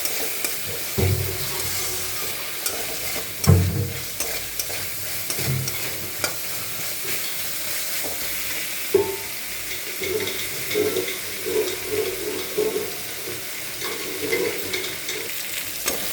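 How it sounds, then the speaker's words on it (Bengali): Turmeric, salt and spices frying in a pan for fish-head khichuri, a continuous sizzle broken by several scraping stirs of a spoon, close up and with no talking. "মশলাটা ভালো করে ভাজা হয়ে গেছে"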